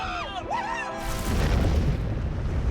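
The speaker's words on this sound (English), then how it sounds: "tinkering with exploding fire extinguishers" An exploding fire extinguisher: a voice talks briefly, then a sudden heavy boom bursts out and rolls into a sustained, rumbling roar with crackling debris.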